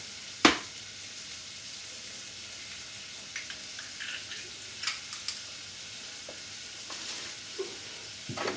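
Eggs frying in a pan with a quiet, continuous sizzle, broken by a sharp crack near the start and a few soft clinks and stirring taps scattered throughout; no one talks.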